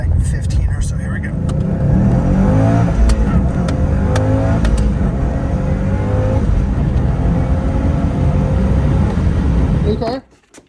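A stock 2006 Subaru WRX STI with about 200,000 miles accelerates hard in a rolling pull from low speed, its engine roaring loud and steady from inside the cabin for about ten seconds before cutting off abruptly.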